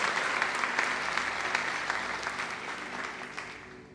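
A church congregation applauds during a Portuguese-language sermon, dense continuous clapping from many hands filling the room at a steady level before tapering slightly toward the end.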